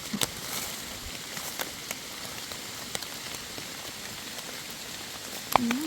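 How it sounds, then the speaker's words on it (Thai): Rain falls steadily outdoors as mushrooms are gathered in a forest, a soft continuous hiss with a few sharper drops and brief knocks standing out, and no talking. "ฝนตกเลย"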